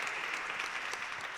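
Audience applause after an orchestral performance, a steady wash of clapping at moderate level, brief and continuous.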